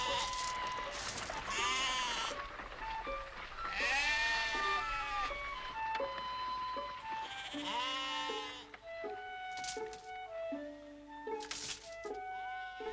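Several sheep bleat repeatedly in a field, loud overlapping calls rising and falling close by, with some animals farther off, over a steady low background hum.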